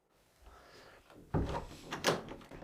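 Front door of an old abandoned 19th-century house pushed shut by its small handle, with a soft scrape building to a solid close and a second thump near the end, heard close by with no talk.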